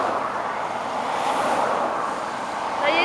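Cars pass along a road with a steady whooshing roadway roar, one vehicle sweeping closer and louder toward the end, briefly and at moderate volume.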